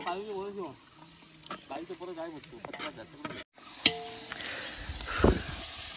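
Country chicken fries in oil with spices and ginger-garlic paste, a hissing sizzle with a few clinks of stirring that follows a stretch of a person talking over the pan.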